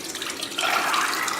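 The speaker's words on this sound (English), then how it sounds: "I'll just use this pan and we'll pour the water" Water poured into a cooking pan in a home kitchen for soaking kala chana, a steady rushing splash that starts softly and grows fuller and louder partway through, with no talking.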